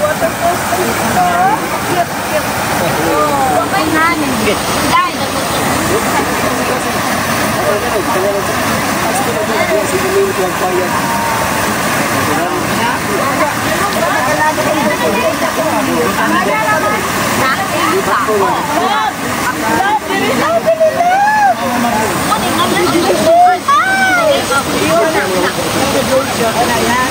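A waterfall at a farm's native pool gives a continuous rushing wash of water throughout, with people talking and exclaiming over it nearby.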